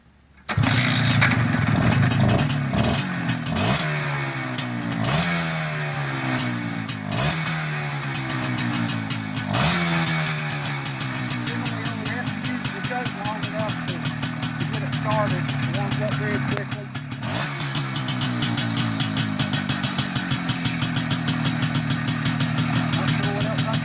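A motorcycle engine fitted with a Mikuni carburetor fires up and runs in a garage, loud and close, with sharp blips of revving and a rapid, crisp idle throughout.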